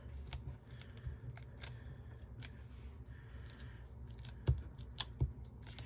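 Scissors snipping around a stamped paper craft piece, a series of short crisp cuts with small pauses between them, close and quiet, with no voices.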